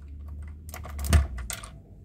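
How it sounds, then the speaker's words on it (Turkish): A few soft plastic clicks and scrapes as keycaps are pulled from a Gamepower Starscream optical mechanical keyboard with a keycap puller, with one firmer click in the middle, close and quiet. "yanında gelen parçayla gene klavyenin tuşlarını sökmek mümkün"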